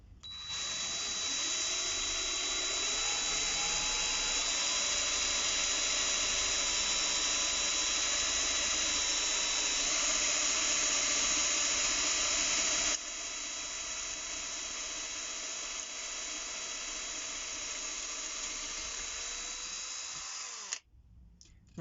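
A Parkside power drill boring through a metal weight, a loud continuous high whine with a squealing edge that holds for about thirteen seconds, then continues slightly quieter before stopping abruptly.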